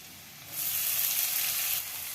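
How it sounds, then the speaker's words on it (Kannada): Dill leaves dropped into hot oil with plenty of garlic burst into a loud, steady sizzle that starts abruptly and holds for over a second before easing slightly, with no talking. "ಇವಾಗ ಈ ಸೊಪ್ಪು ಹಾಕ್ತಾಯಿದ್ದೀನಿ."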